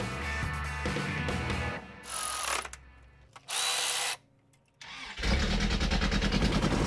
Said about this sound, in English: it's popping out of the exhaust, and it sounds like raw fuel exploding the exhaust